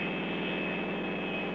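A 1970s race car engine in the film Death Race 2000 runs at a steady, loud, continuous drone with a high whine on top, unbroken and close throughout.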